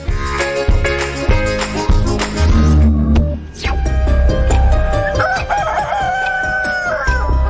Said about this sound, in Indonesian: salah satu mitos tentang ayam yang berkembang di masyarakat Indonesia adalah ayam berkokok di tengah malam